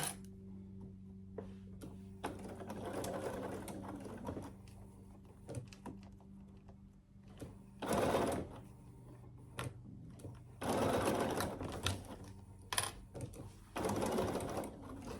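A domestic sewing machine runs a long basting stitch while making a fabric pouch, sounding as short bursts of rapid mechanical stitching separated by quiet pauses with occasional clicks and handling noises.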